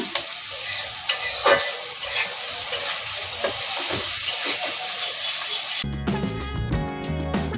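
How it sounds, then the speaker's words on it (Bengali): Chopped green chillies are stirred into restaurant-style fried rice in a hot pan, giving a close, loud sizzle with scraping strokes, then music takes over for the last couple of seconds. "সামান্য নেড়ে দিয়ে আমরা এখন কাঁচামরিচ কুচিও দিয়ে দিলাম"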